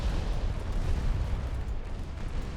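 Torpedo hits on a ship in a naval warfare video game: a dense, rumbling explosive roar that stays loud and continuous, with no voices.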